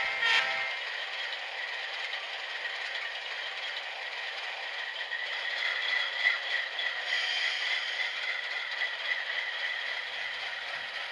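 Kato HO scale C44-9W model locomotive fitted with an ESU LokSound sound decoder, giving a steady rattling diesel rumble that runs continuously and fairly quietly throughout, with no speech.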